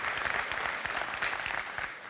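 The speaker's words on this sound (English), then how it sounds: "Applause for Elisabeth." An audience at the WinCC OA User Days 2018 conference keynote in Vienna applauds, a steady dense patter of many hands clapping throughout, fairly close and without voices.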